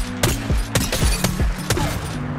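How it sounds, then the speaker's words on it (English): Hipfire shots from the 30-30 Repeater lever-action rifle in Apex Legends, about six sharp, punchy reports spaced roughly every quarter to half second, each with a booming low tail, loud and alone. "Let's test the hipfire of each weapon."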